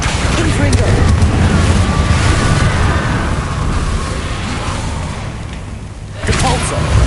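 A Confringo fire spell explosion in Hogwarts Legacy, a sustained loud roaring burst that fades slowly and is followed by a second sharp blast near the end.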